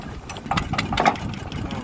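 A small motor boat's engine chugs steadily while crossing a creek at Vaghothan, with a faint voice under the rhythmic thrum.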